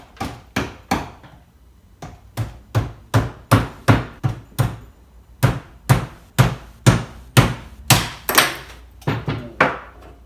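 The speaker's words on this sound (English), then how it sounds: "I'm going to use some flathead screwdrivers just to get into these pry points and just kind of tease it open all the way around" Flathead screwdrivers work at the pry points of a silicone mask mould, giving a long series of sharp, close knocks and thunks, roughly two a second, with a short pause early on.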